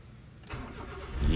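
A used Honda car engine cranks with the ignition key and catches at about half a second, then settles into a steady, fairly loud idle that swells slightly near the end.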